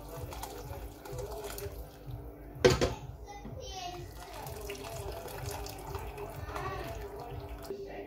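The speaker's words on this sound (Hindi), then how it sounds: "अब इस यखनी को मैं छान लूँगी और सारे मसाले और गोश्त अलग कर लूँगी।" Lamb broth (yakhni) is strained through a sieve to separate spices and meat. Liquid pours and trickles with a brief louder splash, while voices murmur in the background.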